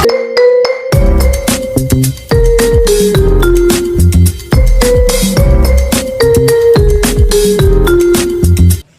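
A phone ringtone plays loud and alone, a bright melodic tune with clear tonal notes over a deep beat, looping twice with short breaks.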